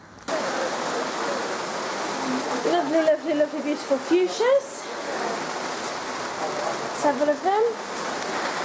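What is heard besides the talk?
heavy rain on a carport roof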